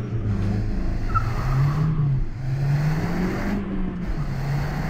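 A Skoda Octavia RS engine pulls up through the revs with a steady, moderately loud drone that rises and dips in pitch as the car gathers speed, heard from inside the car.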